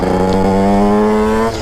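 Drd Racing 140 motorcycle engine held at a loud, steady high rev during a wheelie, a strong harmonic drone that eases slightly near the end, close and alone without talk.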